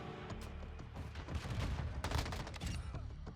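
Rapid gunfire in the video game Warzone 2, dense overlapping bursts of shots and impacts rolling continuously, loud and close throughout.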